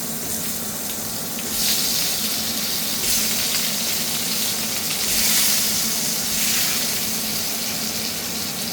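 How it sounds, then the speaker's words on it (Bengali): Potato and pumpkin pieces dropped into hot oil in a pan, giving a loud, steady close sizzle and crackle that swells in a few bursts as they are stirred. "এবার আমি দিয়ে দিচ্ছি আলু আর কুমড়োটা"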